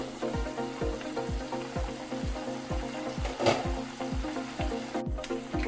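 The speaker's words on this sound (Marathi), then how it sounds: "उकळी यायला लागली आहे।" Bhutanese ema datshi, a spicy cheese and chilli stew, boiling in a pot, with a steady run of regular bubbling pops and a soft, continuous simmering hiss, close and moderately loud.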